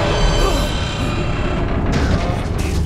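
Rocket's explosion in Guardians of the Galaxy, a loud, continuous booming rumble with crashing debris, heavy and close, while voices are heard faintly under it.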